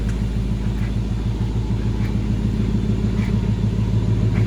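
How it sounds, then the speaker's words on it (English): A 2019 Ford Mustang GT premium convertible with a 6-speed manual idles close by, its engine giving a deep, steady, throbbing rumble for the whole stretch with no voices over it. "Nice rumble."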